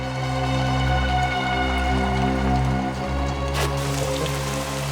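Steady rain falling and pattering on surfaces, a dense, continuous wash of drops with low rumble underneath, close and fairly loud, with a brief sharper splash near the end.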